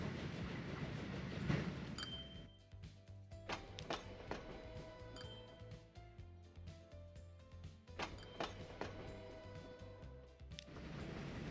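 Steam trains run in Transport Fever 2 with 1850s-era rolling stock on a line toward Edinburgh past Berwick-upon-Tweed, giving a continuous rumble of wagons, scattered clanks and rhythmic rail clicks with no talk.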